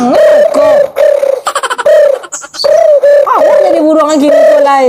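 A bird coos repeatedly, close and loud, with the drawn-out rising and falling notes of a dove or pigeon, broken by a burst of rapid chirps and clicks midway through.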